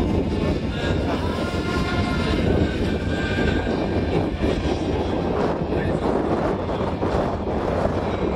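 A radio-controlled model helicopter hovers in place at a model flying club's heli event, its rotor and engine making a loud, continuous buzzing drone that stays steady throughout.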